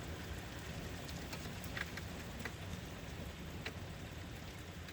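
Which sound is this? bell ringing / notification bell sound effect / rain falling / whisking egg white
rain falling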